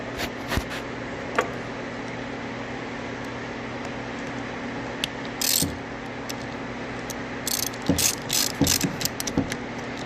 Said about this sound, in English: we're going to put these bolts in. And tighten those down so that we can get that bracket on.